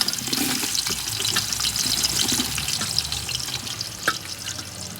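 Onions fry in hot oil while a spoon stirs them. A loud, dense, continuous sizzle and crackle sits close to the pan, with occasional scrapes and no voices.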